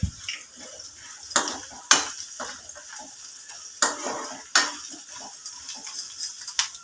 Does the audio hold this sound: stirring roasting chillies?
yes